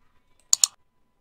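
A computer mouse clicks twice in quick succession, crisp and close, in an otherwise quiet moment.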